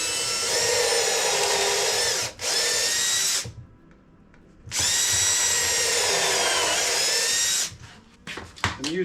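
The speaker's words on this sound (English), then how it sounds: "with my countersink and pilot hole drill, we'll drill this out." A power drill with a countersink pilot-hole bit bores into a wooden box joint jig slider in two long, loud, steady whining runs separated by a brief quiet pause, ending with a few clicks.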